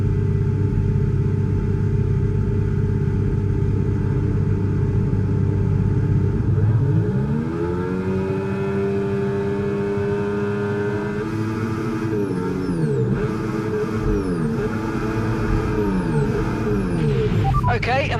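Formula 1 car engines in the F1 25 video game roar steadily on the grid at a race start, then rise sharply in pitch as they rev hard for the launch and stay loud and continuous.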